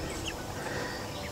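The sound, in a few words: chickens clucking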